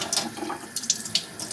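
Tap water runs into a sink while a panini press is being rinsed, a steady soft splashing hiss with small irregular spatters, close and moderately quiet, with no talking.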